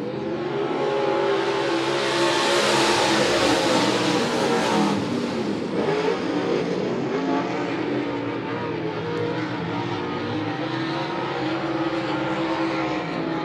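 USRA modified race cars roaring around a speedway oval during a heat race, loud engines revving and sweeping past in a continuous dense drone, no voices.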